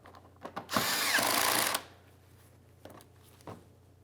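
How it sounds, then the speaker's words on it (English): A power tool drives 10mm-headed mounting screws on a front bumper bracket of a 2003–2007 Honda Accord, one close, steady whirring burst of about a second with faint clicks before and after. "Go ahead and tighten up each of those 10mm headed mounting screws"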